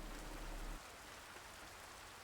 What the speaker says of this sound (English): The rain outside falls hard.